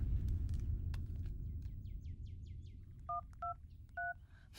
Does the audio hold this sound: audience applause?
no